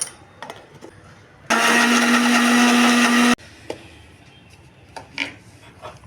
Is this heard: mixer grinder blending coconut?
yes